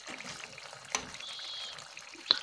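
Water is poured into a pot of chicken kofta curry with a quiet trickle and splash, close by, and a couple of brief clinks stand out.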